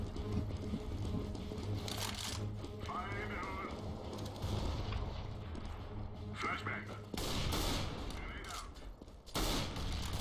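Bursts of gunfire from the Counter-Strike: Global Offensive game crackle repeatedly amid game noise, while someone talks over much of the clip.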